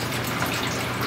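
Steady gushing water from a small pump sending overflow back into a tank, a continuous broadband wash with no pauses, close and moderately loud, no voices.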